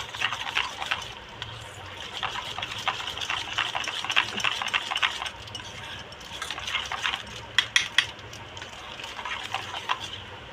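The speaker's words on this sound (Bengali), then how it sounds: "এবার এই বাটারটাকে ভালো করে ঘুটে নেবো যাতে অল্প শক্ত না থাকে বিস্কুটগুলো।" Butter and crushed biscuits being stirred and mashed together in a bowl, a steady run of scraping, clinking strokes with a few sharper knocks near the end, close by with no talk.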